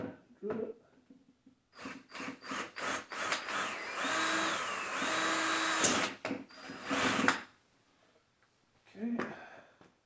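A power drill bores a hole during a Kubota B2320 tractor hydraulic installation, running in several short whirring bursts with pauses between, close and moderately loud.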